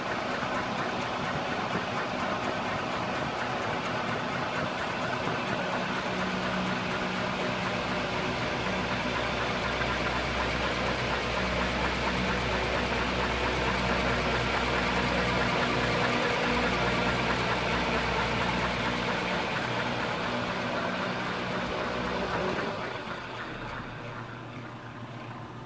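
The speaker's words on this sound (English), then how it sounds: "the fan blade is spinning much faster than it was on the other fan" A small motor spins a fan blade with a continuous close mechanical whir and rattle, holding steady for most of the stretch before easing off near the end.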